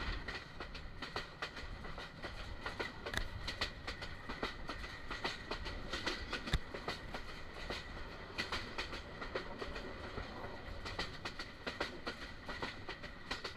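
A Teesta Express train rumbles steadily along the tracks past the Mymensingh bypass in Bangladesh, with rhythmic clickety-clack, a continuous moderate roar with no voices.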